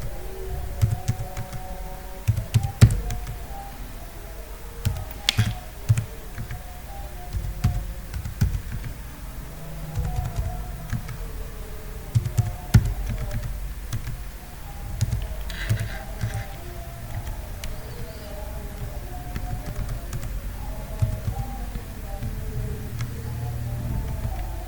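Numbers are typed on a computer keyboard while working in Microsoft Excel, irregular close key clicks spread steadily through the whole stretch over a low background hum, with no talking.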